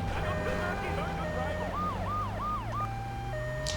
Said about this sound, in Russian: Я не знаю, нахрена тут сирена